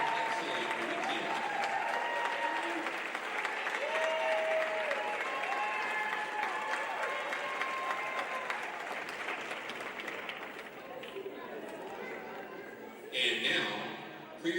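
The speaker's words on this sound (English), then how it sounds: "Let's give the leaders a round of applause for their excellent weekend." Crowd applause at a CCAA women's volleyball tournament awards, honoring the runners-up, steady clapping from a gym crowd with an announcer's voice over it, thinning near the end before a brief louder swell.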